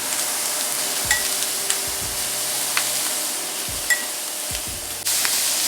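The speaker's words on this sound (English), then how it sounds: "We got the heat on high, so it's going to take no time at all for the shrimp to cook up." Shrimp, onions and peppers cooking on high heat in a hot pan, a soft continuous sizzle with several low stirring knocks and scrapes spaced through the clip.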